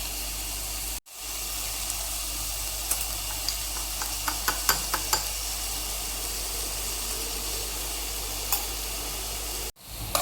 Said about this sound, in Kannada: ಮಿಕ್ಸ್ ಮಾಡಿ ಈ ಥರ ಒಂದು 2 ನಿಮಿಷ ಫ್ರೈ ಮಾಡ್ಕೋಬೇಕು. ಟೊಮೆಟೊನೂ ಸ್ವಲ್ಪ ಫ್ರೈ ಆಗಬೇಕು.